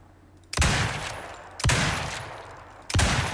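Explosive rifle ammunition fired in Icarus while hunting a polar bear in the arctic on hard mode: three loud, sharp shots spaced about a second apart, each with a long crackling, booming tail.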